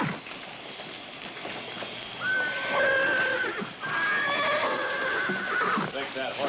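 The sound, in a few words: horse neighing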